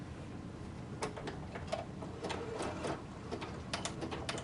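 Sewing machine stitching a zigzag around a corner of a zipper ruffle tank top, running in short bursts with brief stops as the needle is dropped and the fabric pivots, moderately close and alone.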